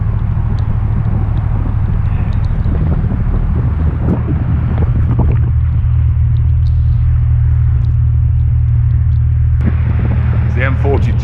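Distant M42 motorway traffic near junction 10, heard from a canal lock as a constant low rumble with wind buffeting the microphone and some voices over it.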